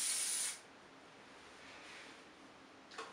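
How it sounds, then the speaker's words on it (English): A single half-second blast of hairspray hisses close up, followed by quiet room tone and a faint brief second puff near the end. "So the hairspray doesn't actually smell of anything"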